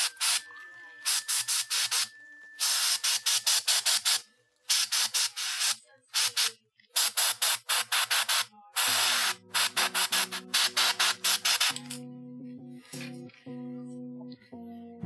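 Spray paint hisses over miniature Baratheon Warden shields in a string of short, close bursts separated by brief gaps, giving way near the end to quieter handling sounds and a soft tonal hum.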